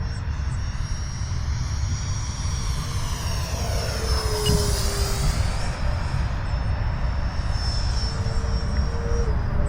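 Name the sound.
Freewing Mirage 2000C 80mm EDF RC jet flying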